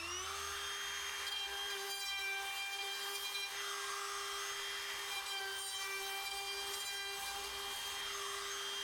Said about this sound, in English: all I'm going to be doing is chamfering around the holes on this one